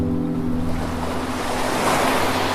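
Ocean waves wash steadily onto a sandy beach under a clear sky, a continuous, loud broadband surf rush with a low rumble, no voices, swelling slightly toward the end.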